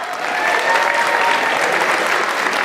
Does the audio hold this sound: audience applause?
yes